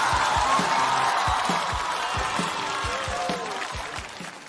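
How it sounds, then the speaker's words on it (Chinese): A stand-up comedy audience applauds and cheers to welcome a performer, with steady, dense clapping and a few whoops over a rhythmic thumping music beat that fades slightly toward the end. "我们掌声有请"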